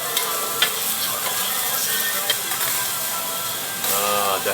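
Oil sizzling in a frying pan in a Tokyo eatery: a steady, fairly loud hiss with faint clatters over it, swelling near the end as more cooking noise joins in.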